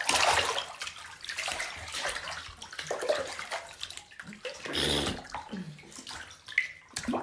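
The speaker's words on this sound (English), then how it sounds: "You either stop splashing or you get out." A child splashes and sloshes water in a bathtub, busy and close, with irregular bursts of splashing and churning throughout and no talk.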